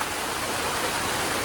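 Steady, dense rain falls loudly and evenly without a break during an outdoor customer appreciation day, making a broad hiss with no voices over it.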